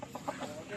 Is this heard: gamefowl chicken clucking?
yes